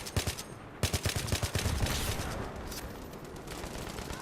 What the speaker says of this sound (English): It's insane how fast that burst is.